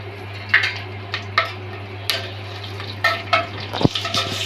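Chopped garlic cloves and chillies are sautéed in a pan, a soft frying hiss under repeated spatula scrapes and clicks against the metal, close and fairly loud, with a steady low hum behind.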